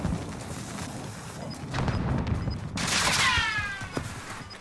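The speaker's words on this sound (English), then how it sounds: "There's guys shooting at me." Gunfire in the video game Call of Duty: Modern Warfare, a burst of rapid shots and booming noise that swells midway, with a faint tonal in-game blip recurring over the top.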